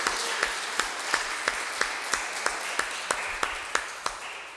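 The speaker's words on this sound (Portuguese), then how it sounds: "dá uma salva de palmas para ele" Congregation applause at a Portuguese-language church service, a dense wash of clapping with regular sharp accents throughout, steady and fairly loud, then tapering slightly at the end.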